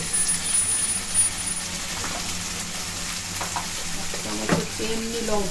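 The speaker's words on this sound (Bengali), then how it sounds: "1 চামচ হচ্ছে জিরে, 1 চামচ জিরে" Coriander and cumin seeds fry in hot oil for a Bengali prawn and kohlrabi dish, a steady close sizzle running throughout with a few sharper crackles and brief clinks near the end.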